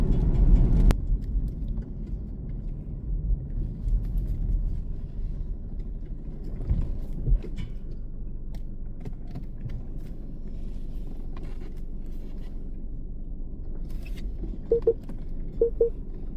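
An ex-police BMW G31 estate car showing a drivetrain error while driving: a steady low engine and road rumble heard from inside the cabin, with a heavier thump at the start and faint clicks later, no talk.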